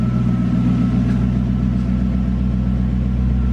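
A Lexus SC400 idles after a cold start, a loud, steady, even engine hum with deep low rumble and a faint high whine, close to the microphone with no talking.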